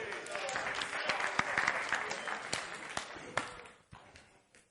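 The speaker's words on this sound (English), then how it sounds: "Give him a hand clap." A church congregation claps hands at a sermon: a crowd's applause with sharp individual claps standing out, gradually thinning and fading toward the end, with voices mixed in.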